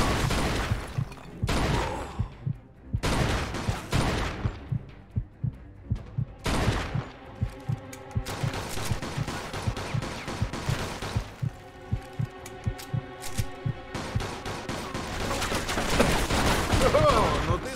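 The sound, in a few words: gunfire from above in the video game Mafia II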